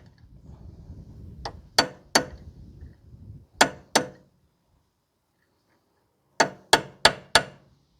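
Sharp metallic hammer strikes drive a drift chisel or punch to stake a nut during clutch work on a 2010 Toyota Corolla 1.8, coming as two pairs of taps and then a quick run of four after a short rubbing noise.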